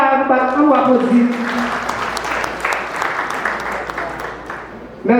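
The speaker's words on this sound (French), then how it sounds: "Encore une fois, nous applaudissons." At a Haitian wedding in Brazil, the guests break into loud, sustained applause, with a voice speaking briefly at the start and again as the clapping fades.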